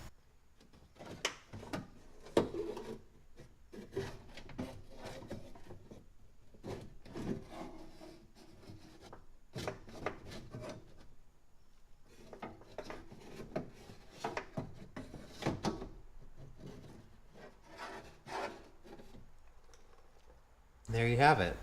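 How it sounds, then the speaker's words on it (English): A power window regulator assembly is worked out of a car door shell, producing intermittent scraping, rubbing and knocking of metal against the door panel, up close, with a person talking over much of it. "you can start carefully guiding the regulator assembly out of the door"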